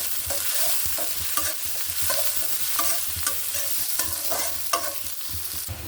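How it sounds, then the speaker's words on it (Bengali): Two cinnamon sticks and four cardamom pods frying in a pan with onions, with steady sizzling broken by repeated stirring scrapes from a spoon, close and fairly loud, no voices. "দুটো করে দারচিনি এখানে দিয়ে দিচ্ছি চারটে এলাচ এটা আমি একটু ভেজে নিব"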